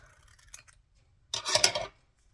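A pair of scissors makes one crisp, close snip through paper during card making, a short rasping cut after faint rustling, with quiet around it.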